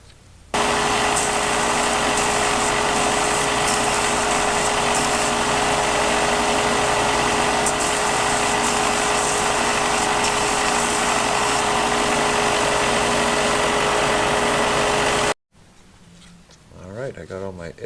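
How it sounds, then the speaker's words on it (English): Belt sander smoothing the raw cut edges of a DIY fishing rod truck rack, a loud continuous whine for about fifteen seconds before cutting off abruptly, followed by faint handling sounds. "I have a belt sander, so I'm going to use that."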